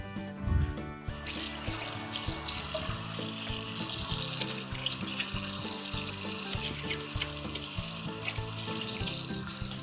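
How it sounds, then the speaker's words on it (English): A running kitchen tap as hands are washed under it, a steady hissing rush of water with some splashing, close and continuous while music plays underneath. "Let me wash my hands."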